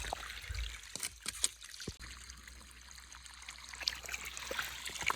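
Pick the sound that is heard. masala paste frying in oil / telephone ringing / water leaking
water leaking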